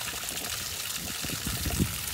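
Rank, smelly old water drains and trickles out of an RV water heater, a steady soft splashing flow with a slight gurgle, no voices.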